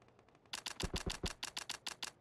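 Rapid gunfire in PUBG: Battlegrounds, a burst of about a dozen sharp shots in an even automatic rhythm after a few fainter clicks, close and crisp with no talk over it.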